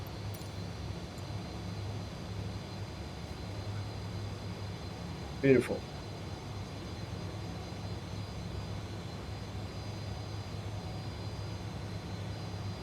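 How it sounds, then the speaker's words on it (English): The jet engines of a Fokker F28 in Microsoft Flight Simulator run with a steady droning hum after start. The tone stays constant throughout, with a short spoken remark in the middle. "we can confirm good engine start"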